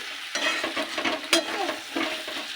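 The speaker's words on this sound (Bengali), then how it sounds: "চিকেনটা কষে একদম তেল ছেড়ে এসছে, নিচে লেগে যাচ্ছে মশলাটা।" Chicken and spice paste frying in oil, a close, crackling sizzle with rhythmic scraping strokes of a spoon stirring the pan, steady throughout with no voices.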